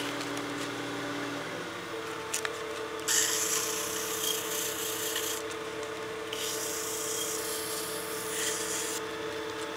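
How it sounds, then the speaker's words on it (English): A holly wood birdhouse ornament on a lathe is sanded lightly with sandpaper, giving a steady close rasping rub against the lathe's continuous hum, with brighter stretches of friction in the middle of the clip. "I want to sand this while I still have enough material there to support it"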